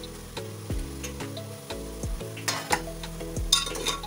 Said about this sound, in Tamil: இது ஒன்று ஜஸ்ட்டு ஒரு 5 நிமிஷம் எண்ணெயில் ஃப்ரை ஆனால் போதும்.